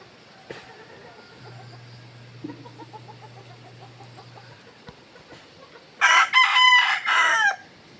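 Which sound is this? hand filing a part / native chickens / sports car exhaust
native chickens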